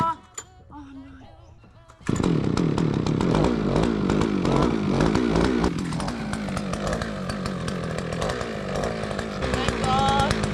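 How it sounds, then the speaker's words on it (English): A gas-powered earth auger engine roars to life and runs steadily at high revs while boring into clay, loud and close. A few faint sounds come before it starts. "It took me over an hour to get that auger started, but it's not doing a great job in the clay"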